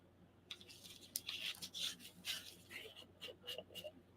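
Short bristly rubbing and dabbing strokes as Vallejo acrylic rust texture paste, a gritty mud-like compound, is worked onto a scale model, soft and close, in irregular bursts with quiet pauses.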